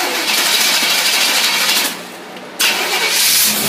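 A small Predator carbureted engine runs loud and steady, cuts out briefly to a lower hum, then roars back up again, close by with no talking.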